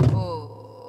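A single deep stroke on a Korean buk barrel drum during a pansori drumming lesson, a sharp, loud thump at the start that rings and fades over about a second.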